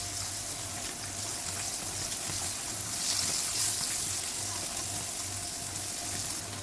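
Small mandeli fish frying in hot oil until crisp, a steady, dense hiss and crackle that holds evenly throughout with a faint low hum underneath.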